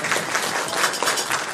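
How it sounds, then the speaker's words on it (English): A room of listeners bursts into dense, loud applause for a city councillor's colleague, Dr. Ruslan, in a short, continuous wash of clapping. "Give him a round of applause, man."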